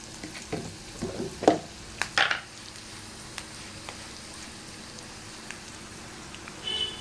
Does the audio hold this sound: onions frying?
yes